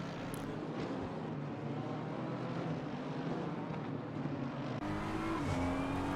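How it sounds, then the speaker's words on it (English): A BMW GT3 race car drives out on a rainy Zandvoort track, its engine a steady loud drone with a gear-change rise in pitch near the end. "Car is now coming out on track."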